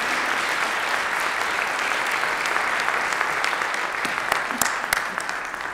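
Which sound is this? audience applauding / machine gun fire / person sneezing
audience applauding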